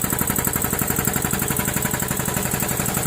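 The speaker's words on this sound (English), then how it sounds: "The compressor itself only turns at 800 RPM. 2-stage. Builds air fast." A two-stage air compressor driven by a 1725 RPM motor, the pump turning at 800 RPM, runs with a steady rhythmic chugging pulse over a constant motor hum, close and unbroken.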